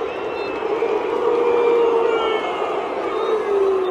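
A stadium crowd at Estadio Akron boos and jeers as a Chivas vs León match ends 1-2, a dense, sustained roar of disapproval with whistles and long howling tones heard from within the stands.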